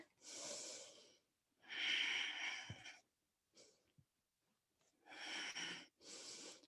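Deep, breathy inhales and exhales during an exercise class come in slow, separate waves, each lasting about a second, close and fairly quiet, with short pauses between them.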